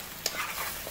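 Prawn vindaloo being stirred in a hot pan, with a steady, close sizzle of frying and a brief scrape of the spoon partway through.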